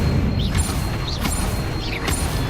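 Incendio fire spell cast repeatedly in the game Hogwarts Legacy: a continuous low roar with bright whooshing swishes recurring about every three-quarters of a second, steady and fairly loud, no talking.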